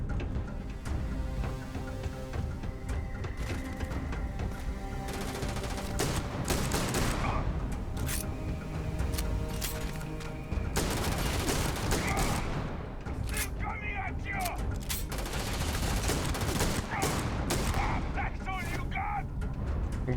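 Shotgun fire in the video game Starfield: loud, dense bursts of gunshots and booms from a firefight run continuously, with someone talking over the shooting.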